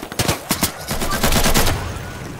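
Gunfire in the multiplayer video game Insurgency: a rapid, loud burst of repeated shots, roughly a dozen cracks in quick succession, close and dominant with no talk over it.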